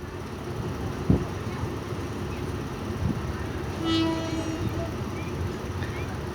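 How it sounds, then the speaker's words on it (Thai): Express train No. 32, a Hitachi locomotive, passing Nakhon Chum station with a continuous rumbling roll, a sharp knock early on and a short tonal horn blast midway, at moderate distance. "ขบวน 32 กำลังจะผ่านสถานีนครชุม นะฮะ"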